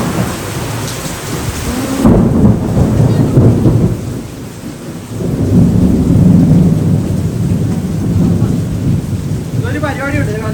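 Heavy night rain pours steadily while deep thunder rumbles, with a sharp crash around the two-second mark and a second rolling peak later, the downpour loud and continuous throughout.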